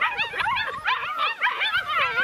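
Young puppies, around six weeks old, whimper and yip continuously in a close, busy chorus of overlapping high cries, left alone on artificial turf while their mother is away.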